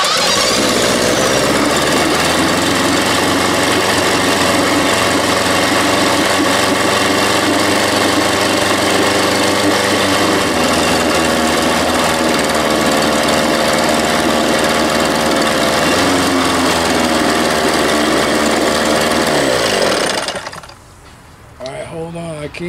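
A 1987 Johnson 6 hp outboard motor runs loud and steady for about twenty seconds, its engine drone constant and close, before cutting off abruptly near the end.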